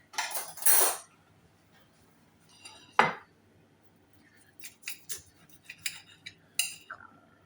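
Knife and fork working through a fried cured pork shoulder steak on a plate, giving a few separate clinks and scrapes of cutlery against the dish with quiet pauses between them.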